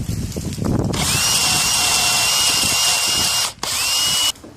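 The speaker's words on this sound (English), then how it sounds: "drill a small pilot hole" A power drill whirs steadily at high speed for a few seconds while drilling a small pilot hole in wood, pausing briefly once before spinning again and stopping.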